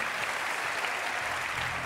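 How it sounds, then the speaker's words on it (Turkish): Studio audience at a Turkish talk show applauding guests, a steady, even wash of many hands clapping continuously throughout, moderately loud with no talk. "Gel konuklarımıza da toplu bir alkış alalım"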